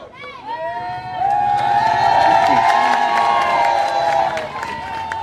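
A crowd at a public AAP gathering in West Vinod Nagar, Delhi, cheers, whistles and claps to welcome Manish Sisodia, swelling into loud, continuous applause and shouting with voices mixed throughout.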